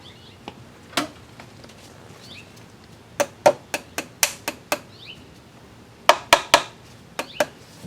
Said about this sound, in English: Might have to hammer that one down a little bit.